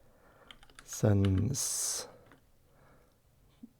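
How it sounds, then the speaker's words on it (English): Quick keystrokes on a computer keyboard, a short cluster of light clicks close by, cut across by a brief spoken word in the middle. "We will hit next, and I will type OPNSense"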